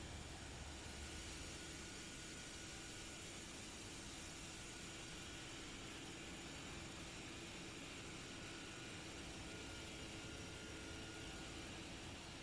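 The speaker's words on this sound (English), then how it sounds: "And there we go. Beluga's flying." A steady, even roar from an Airbus Beluga cargo aircraft in flight, heard in the Microsoft Flight Simulator 2024 video game, fills the whole stretch at constant loudness with no voices.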